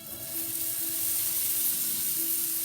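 Chickpeas dropped into a hot pan with onion and garlic, sizzling steadily and loudly from start to finish as they fry, with a faint stirring texture and no talking.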